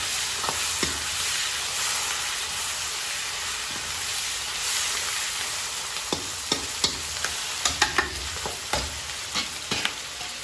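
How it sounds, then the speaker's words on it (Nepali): Chicken pieces sizzle loudly in hot oil over normal heat while a spoon scrapes and stirs the pan. Sharp clicks and knocks come faster toward the end, over a steady hiss. "नर्मल हिटमा मासुलाई सर्लक्क मजाले भुट्छौँ पहिला।"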